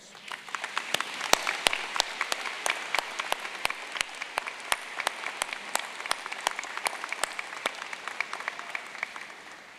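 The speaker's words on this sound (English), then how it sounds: "Let's give them a round of applause." Sustained audience applause at a university convocation ceremony, steady dense clapping with sharp individual claps standing out, carrying evenly for the full length.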